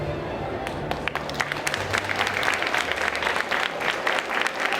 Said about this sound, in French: Applaudissements, s'il vous plaît, pour Louise Aventure.